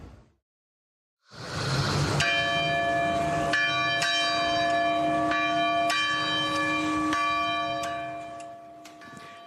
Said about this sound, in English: those were bells tolling in Uvalde, Texas